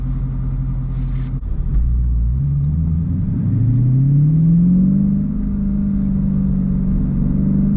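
A deep, loud 2022 Dodge Challenger Scat Pack Widebody engine rumbles, then revs up with a rising growl before settling back to a throaty idle.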